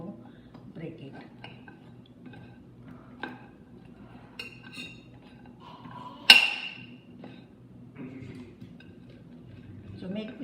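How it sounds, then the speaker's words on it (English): Knife and fork clinking against a dish while breaking a still-hot ladva mixture into small pieces, a few light metallic taps and one sharper clink standing out under a person talking. "I'm using this knife and fork to break it"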